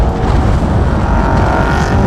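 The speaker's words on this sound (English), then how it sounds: "as Wilson tries to bring this Commodore home" Holden Commodore race car in an Improved Production over-2-litre heat at Phillip Island, a loud, continuous engine roar at close range with no voices.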